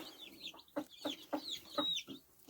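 Broody hens of large Brahma and Silkie type clucking in a series of short, close, rhythmic calls, with low clucks and a few higher squawks layered together.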